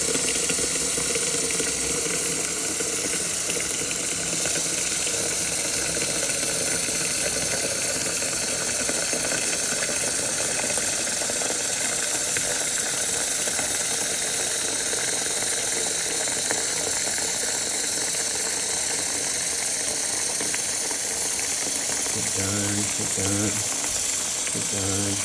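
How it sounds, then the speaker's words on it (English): Water pours steadily into the tank of a Narwal Flow2 robot mop, a continuous watery rush that runs the whole time while people talk over it. "Water goes in."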